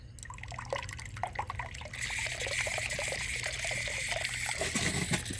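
A tap is turned on outdoors near a raccoon, and water runs in a steady trickling stream from about two seconds onward, loud and close with no talking.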